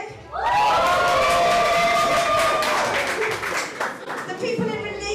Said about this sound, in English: all the single people, give me a cheer